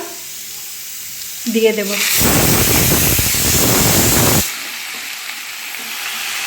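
Boiled radish greens hit a hot pan and set off a loud, hissing sizzle that lasts about two seconds and then drops to a quieter sputter. A short spoken phrase comes just before.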